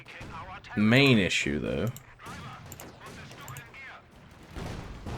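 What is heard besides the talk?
mortar firing in video game Company of Heroes 2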